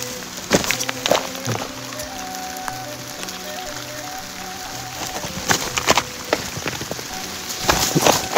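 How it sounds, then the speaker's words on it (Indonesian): Heavy rain falls at a mountain crater, a steady wash of drops hitting surfaces with louder spattering bursts now and then. Faint tonal hums sit under the rain, and no one speaks. "Ini hujan."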